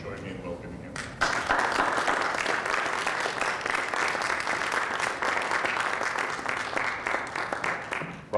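An audience breaks into sustained applause welcoming Sir Timothy Green, a dense rattle of many hands clapping that starts abruptly after a brief spoken introduction and continues evenly throughout.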